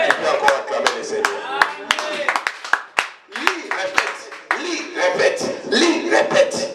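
Congregation in a church clapping and cheering in loud, uneven bursts, with voices shouting over the applause.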